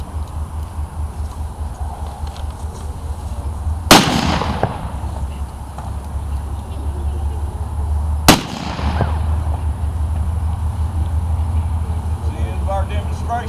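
Two loud, sharp pistol shots ring out about four seconds apart at an outdoor living history weapons demonstration in Nashville. Each echoes briefly over a steady background rumble and crowd noise.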